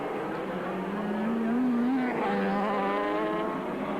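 Honda NR750 and other racing motorcycles at the 1987 Swann Series Calder roadracing round, engines droning down the straight with a rising, shifting pitch as the bikes pass at a steady distance.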